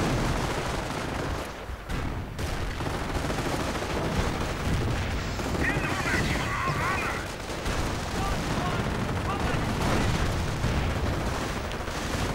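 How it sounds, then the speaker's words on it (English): Continuous rattling machine gun fire and booming high-explosive rounds in a 1v1 World War II strategy game match, a dense battle din with a commentator talking over it. "with machine gun fire and high explosive rounds"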